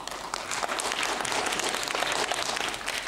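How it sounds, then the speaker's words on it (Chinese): Audience applause at a piano recital held in a teacher's home: dense, steady clapping from a small crowd fills the whole stretch without pause. "让我们掌声有请思思"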